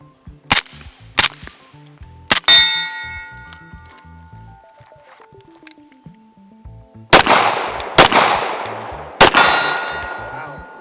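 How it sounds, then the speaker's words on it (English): Gunshots at an outdoor range ring off steel targets: six sharp reports, each followed by a bright metallic clang, spaced irregularly, the last three louder with longer ringing tails. "He has been shooting all day with one hand, and he has been nailing these steel targets."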